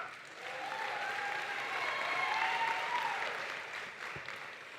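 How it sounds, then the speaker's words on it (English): An audience breaks into applause at a university commencement ceremony, a sustained wash of clapping that swells, holds for a few seconds and then tapers off, heard from within a large hall. "You know it's a good day when you have to stop speaking for a minute so everybody can applaud"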